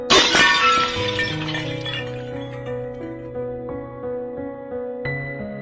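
Glass struck and breaking with a bright crash at the start, followed by ringing, clinking resonant tones that decay and recur faintly; no talking.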